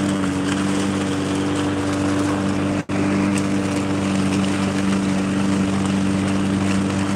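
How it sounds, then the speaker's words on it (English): A lawn mower runs steadily while mowing a yard strewn with magnolia leaves, a constant close engine drone with one very brief dropout partway through. "First-person yard mowing."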